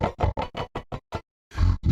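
An Ovox vocoder effect in FL Studio 20 turns sound into a string of choppy, robotic syllable bursts in even rhythm, then a short silence and a louder, denser burst at the end.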